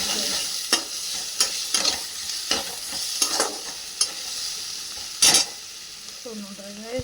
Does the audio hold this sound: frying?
yes